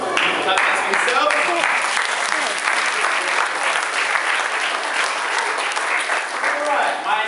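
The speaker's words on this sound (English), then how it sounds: "Clap hands for yourself." Children at a Chesterfield school clapping their hands together indoors, a loud dense burst of applause sustained throughout, with voices mixed in.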